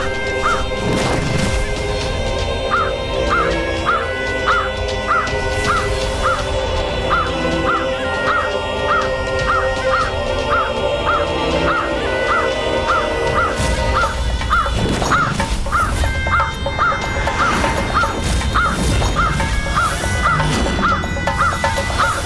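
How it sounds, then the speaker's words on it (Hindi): A crow caws harshly again and again in a steady repeating pattern, its rasping calls riding over a busy layered backdrop with occasional crashing hits. "काक का कर्कश स्वर"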